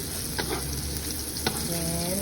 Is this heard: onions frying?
yes